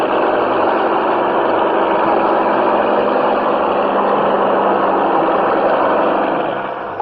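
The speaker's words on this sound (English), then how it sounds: "Sand so deep, even powerful earth movers bog down." Powerful earth movers working deep sand at an air base construction site, a loud, unbroken engine roar held at a steady pitch throughout, with no voices.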